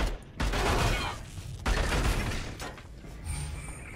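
A gun in the video game Bunker Punks fires in short, rapid bursts, loud and close, each burst separated by a brief gap.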